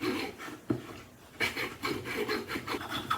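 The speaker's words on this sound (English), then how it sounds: "So the little coping saw on this end." Small coping saw cutting through a wooden Christmas hanging ornament on a lathe-turned piece, giving rough rasping strokes in a steady back-and-forth rhythm, close and moderately loud with no talking.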